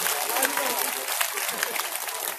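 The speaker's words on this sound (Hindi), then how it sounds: "इसलिए आप लोग अपने लिए ताली बजाओ जोरदार।" Devotional listeners at a religious discourse gathering in Noida clap together in a brief burst of dense, lively applause, a crowd filling the hall.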